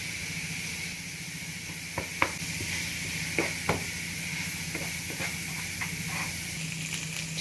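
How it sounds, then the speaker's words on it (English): Vegetable stock goes into a hot pan of turkey, giving a steady hiss and sizzle throughout, with scattered clicks and stirring taps of a utensil over the frying. "I'll be adding my vegetable stock."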